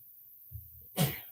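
A single short, soft sneeze after a faint breath, close and quiet.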